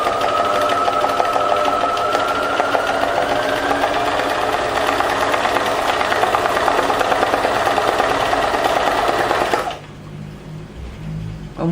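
Sewing machine stitching through layered lace, paper and cloth, a steady loud mechanical whir running for about ten seconds before cutting off abruptly, leaving a quiet tail.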